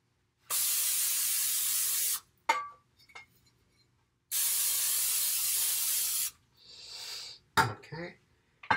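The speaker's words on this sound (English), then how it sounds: "I'm just going to give this a quick little spray." Two steady two-second bursts of cooking spray hiss onto a loaf tin, close and loud, separated by small clinks and rustles of handling.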